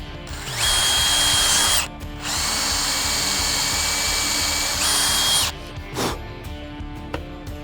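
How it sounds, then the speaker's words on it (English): A cordless power drill drives screws into the legs of a wooden cornhole board. Two long, loud, close whines come in separate bursts, each rising and settling as the screw seats, followed by quieter handling knocks. "we'll put one screw in each leg here"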